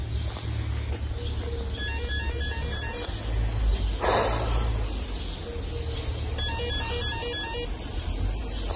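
A phone ringtone chirps repeatedly in bright electronic bursts over a steady low rumble of delivery scooter road or engine noise, with no talking.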